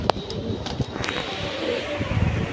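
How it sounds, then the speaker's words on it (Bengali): Silver Pankhi pigeons with deep blue eyes coo softly in a short burst close by, with faint rustling and shuffling around them and no talk. "আরেক জোড়া পাঙ্কি কবুতর নিয়ে আসলাম"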